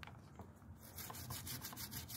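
A toothbrush scrubs grime off a shell in quick, steady back-and-forth strokes, close and fairly quiet, with a rough, rasping rub and no talking.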